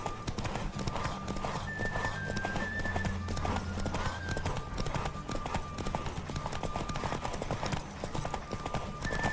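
Steady clip-clop of a horse's hooves at speed in The Witcher 3, rhythmic and continuous under game music, with occasional faint whinny-like sounds and little talk.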